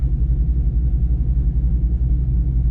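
A car fitted with a LUND Racing ghost cam tune idles with a deep, pulsing low rumble, a steady loping throb that sounds muffled and close, with no talking.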